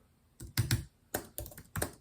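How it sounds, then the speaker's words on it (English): Bursts of computer keyboard typing, a few quick clusters of clicky keystrokes separated by short pauses, close and fairly loud with no talking. "I'm going to type that."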